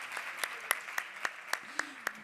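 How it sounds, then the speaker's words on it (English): Rhythmic claps from an audience at a startup contest finals on a main stage in Madrid, about eight evenly spaced sharp claps over a faint background, fairly quiet and sparse. "a round of applause for you"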